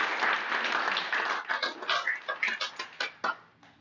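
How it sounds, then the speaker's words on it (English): Small group at a public school board meeting applauding, a moderately loud cluster of claps that thins out into a handful of separate slaps before stopping. "So we give him a round of applause."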